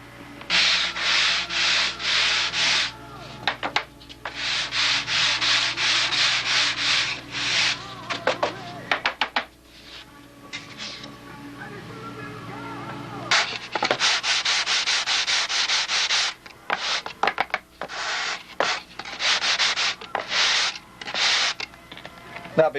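Sticky-back sandpaper scrubs a straight wooden flap in repeated back-and-forth bursts, close and fairly loud, with short pauses between sanding runs and a few quicker strokes toward the end.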